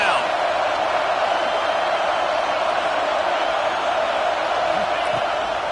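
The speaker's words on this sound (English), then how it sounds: "Decibels rising as the crowd gets behind this defense on 3rd down." Football stadium crowd roars steadily on a third down in a college game, a dense wall of cheering and noise sustained throughout, with a commentator talking over it.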